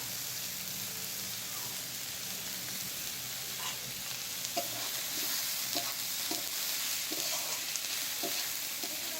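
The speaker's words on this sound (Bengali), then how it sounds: "পেঁয়াজটা দিয়েও ভালো করে ভাজা ভাজা করে নেবেন পেঁয়াজটাকে লাল লাল করে ভেজে নেবে" Onion frying in oil for a Bengali raw jackfruit and prawn curry, a steady sizzle with scattered spatter pops and occasional stirring clicks, no talk.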